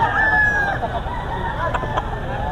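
A rooster crows once at the Bocaue chicken market among stags and cocks for sale, the call rising briefly at the start over a steady wash of market noise and distant murmuring.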